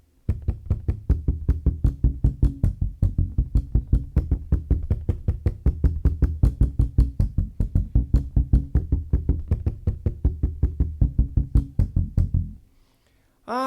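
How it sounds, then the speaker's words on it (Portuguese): Muted bass guitar strings struck with the whole fretting hand muting them, giving a steady run of dull, percussive ghost-note thumps in an even rhythm for about twelve seconds, then a short pause and one more hit. "para sintetizar bem a ghost note, é esse som aqui"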